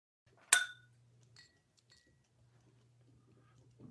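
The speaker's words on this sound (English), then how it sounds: "That was me hitting a Pilot G2 pen against my Glencairn glass to make a clink noise" A Pilot G2 pen strikes a Glencairn glass once, giving a sharp, bright ringing clink that fades quickly, followed by faint light taps in a quiet room.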